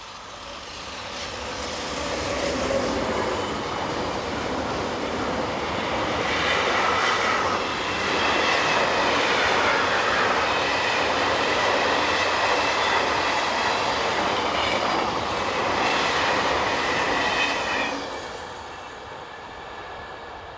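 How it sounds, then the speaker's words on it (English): An intermodal freight train rolls past on a French rail line, a loud, continuous rumble and rattle of wagons with faint rhythmic clicking that builds, holds steady for many seconds, then eases off as the train recedes. "Intermodal trains are common on this line, with usually 1 hour in each direction."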